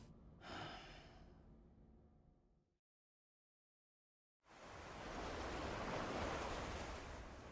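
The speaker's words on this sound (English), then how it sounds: "Ooh, the beach." Ocean waves on a beach in the video game Death Stranding. A surf wash fades out into a couple of seconds of silence, then a fresh, louder rush of breaking waves swells up and holds steady.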